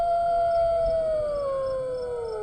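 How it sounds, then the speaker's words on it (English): A fox calls out in the middle of an open field at night, giving a long, clear, wavering howl-like cry that slowly falls in pitch, heard steadily over a faint ambient hum. "In the middle of the field, the fox calls out."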